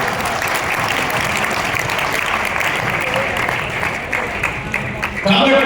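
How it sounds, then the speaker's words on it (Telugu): An audience claps steadily and loudly throughout a religious discourse, a dense, sustained wash of applause that swells briefly near the end. "అందుకని చప్పట్లు కొడుతుంది."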